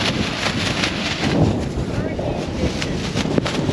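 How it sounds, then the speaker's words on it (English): Strong wind blasting a microphone on the shore at Cape Canaveral near Cocoa Beach: steady, loud roaring and buffeting with no break. "It's extremely windy."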